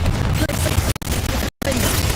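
Bombarda and Confringo spell explosions in the video game Hogwarts Legacy, booming blasts and crashes that fill the soundscape, broken by two abrupt dropouts, with a voice talking over them.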